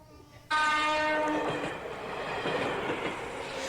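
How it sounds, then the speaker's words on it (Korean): A train starts with a loud horn blast, then a steady rolling rumble of wheels on rails continues close by. "기차가 달려갑니다."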